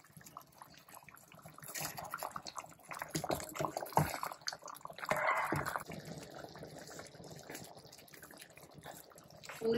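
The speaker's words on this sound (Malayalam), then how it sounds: "ഒരു തേങ്ങാപ്പാൽ ഇതിലേക്ക് ഒഴിക്കുക കേട്ടോ" Coconut milk poured into a simmering kurma curry pot makes a close liquid splashing and gurgling pour, swelling in bursts mid-way with faint drips and a brief clink.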